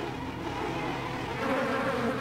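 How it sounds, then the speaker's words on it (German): A swarm of mosquitoes in the video game System Shock 2 gives off a steady, close insect buzz that keeps going for the whole moment with no talk over it. "Scheiß Mücken, ey."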